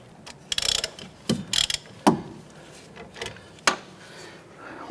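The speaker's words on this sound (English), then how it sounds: "Let's go ahead and install our extensions and ratchet. Let's go ahead and loosen this inner tie rod." Ratchet with extensions loosening an inner tie rod on a 2006-2013 Chevrolet Impala: sparse, close metallic clicks and short ratcheting bursts separated by quiet pauses.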